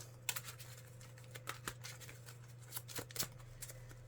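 Quiet, close shuffling of a deck during a Marvel Champions card game: several short crisp riffles and taps, spaced irregularly over a steady low hum, with no talking.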